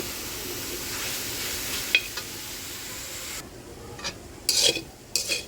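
Ingredients for bhorta dry-roasting in a pan, a faint steady sizzle with a few scraping strokes of a spatula near the end.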